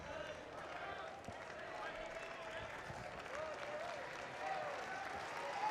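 A crowd at a Minnesota vs. Oregon State college baseball game cheers and claps through a full count, a faint, continuous wash of applause beneath commentary.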